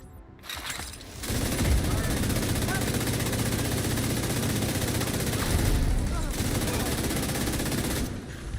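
Sustained automatic gunfire in The Division 2, a dense, loud, unbroken stream of rapid shots lasting several seconds with only brief breaks at the start and end.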